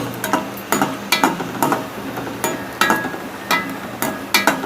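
Almonds and cashews fry in a pan for bread halwa, with a spatula scraping and stirring in a steady rhythm of sharp strokes roughly every half second over a continuous close sizzle.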